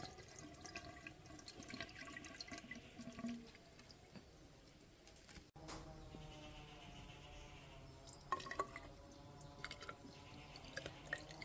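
Water poured into a car's reservoir, a quiet gurgling trickle and splashing of liquid filling the container, faint and close with a brief interruption midway.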